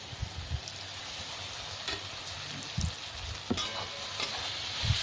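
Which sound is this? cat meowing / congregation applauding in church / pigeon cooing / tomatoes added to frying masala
tomatoes added to frying masala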